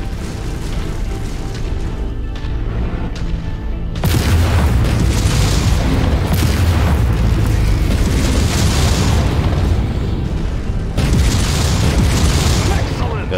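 Missile impacts and booms from mech combat in Mechwarrior 5 Mercenaries, a loud sustained rumble of blasts starting partway in and rolling on with repeated swells, with occasional game voice over it.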